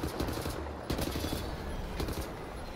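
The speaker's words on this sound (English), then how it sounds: "I'm shooting at its eye!" Rapid automatic gunfire from the Wolfenstein: The New Order video game, loud and dense, with bursts of shots rattling almost continuously and sharper volleys near the start, middle and end.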